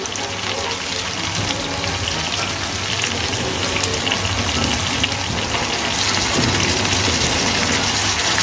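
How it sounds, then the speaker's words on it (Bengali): Water being poured into ground spices in a cooking pan while making a rohu fish curry with drumsticks and potatoes, giving a steady broadband sizzle and gush that holds evenly throughout, close and fairly loud, with no talking. "এর মধ্যে দিয়ে দেবো সামান্য জল।"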